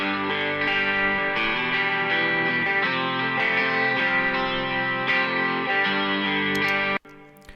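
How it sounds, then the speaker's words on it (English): Three electric guitar tracks, one panned left, one right and a 12-string joining at the chorus, each with spring reverb, play a dense sustained strummed progression that cuts off abruptly near the end. "Okay, so I've gone ahead and soloed up some guitar tracks here."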